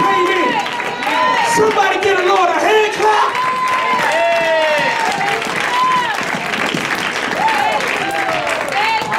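A church congregation claps and cheers continuously during a worship service, with voices whooping and calling out over the sustained applause.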